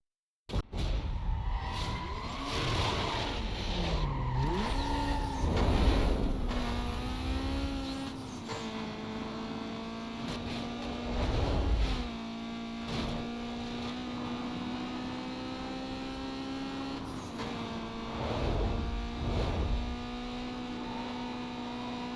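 A Fiat Punto in a racing video game hums along with a steady engine tone that rises and falls through gear changes, with brief whooshes as it passes objects.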